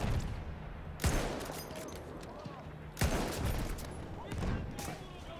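Bursts of weapon fire in the video game Battlefield 1, with sharp shots cracking out at intervals over a busy, noisy game mix while a voice talks.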